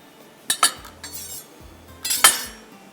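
A spoon clinks and scrapes against a bowl while naan raita is mixed, with two clusters of sharp metallic taps and a few softer knocks in between.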